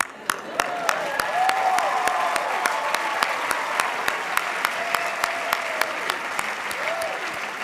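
Commencement audience applauding a speaker: dense, loud, sustained clapping from a large crowd fills the whole stretch, with faint voices and cheers mixed in.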